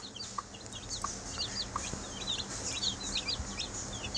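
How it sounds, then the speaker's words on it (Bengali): Broiler chicken chicks about five days old on a farm peep and cheep in a busy, overlapping chorus of high chirps, soft and steady over low background hum. "ব্রয়লার মুরগির বাচ্চাগুলো"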